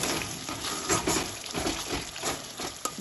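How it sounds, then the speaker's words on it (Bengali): Ground spices, including Kashmiri chili powder, sizzle softly while being fried and stirred in oil for a Bengali cauliflower rezala, a steady quiet crackle with faint scraping of the stirring. "সব কিছু তেলের সাথে ভালোভাবে কষিয়ে নেব।"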